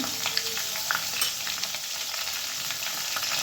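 Potatoes fry in oil after a cumin seed tempering, a dense continuous sizzle with faint crackles and light stirring, close and steady throughout.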